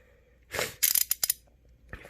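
Ratchet socket wrench with a 3/8 extension turning out the original spark plug on a TaoTao racer go-kart, a cluster of quick, close clicking strokes after a rustle, with no voices.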